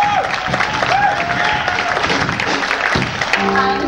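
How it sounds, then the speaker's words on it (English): Concert audience at a sixth form college music concert applauds steadily at moderate volume, a continuous patter of clapping with faint instrument tones sounding through it. "So please give Nick a round of applause."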